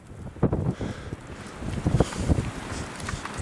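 Gusty wind blowing across an open mountain area, buffeting the microphone in rough, uneven surges of low rumble that swell toward the end, with no voices.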